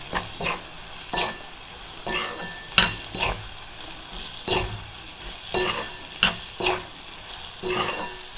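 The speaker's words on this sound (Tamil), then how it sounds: "சுண்டைக்காயை போட்டு இது கூட நல்லா வதக்கிக்கலாம்" Ground green turkey berries are sautéed in oil in a pan for pickle, with a spatula scraping and stirring in repeated rhythmic strokes about once or twice a second over a faint, steady sizzle, close by.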